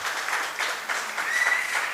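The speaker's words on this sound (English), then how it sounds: "Big round of applause for both of these." Audience applause at a Hindu temple and community centre grand opening, a steady dense patter of many hands clapping throughout, fairly close and even in level.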